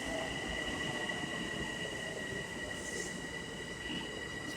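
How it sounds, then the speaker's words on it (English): An M7 commuter train arriving at a suburban station on Long Island's South Shore, a loud steady rumble with high metallic wheel squeal and hiss held throughout, close by, with no voices. "Watch this train come in here."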